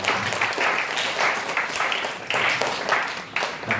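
A church congregation applauds its kindergarten department teachers, a moderately quiet crowd clapping in uneven surging bursts that swell and ease for a few seconds.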